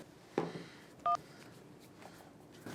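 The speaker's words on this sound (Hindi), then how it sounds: "बैनी को फोन।" Telephone dialing tones from a mobile phone, with a few short, distinct beeps spaced apart over a quiet room background.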